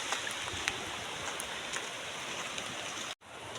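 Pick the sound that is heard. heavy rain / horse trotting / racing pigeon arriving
heavy rain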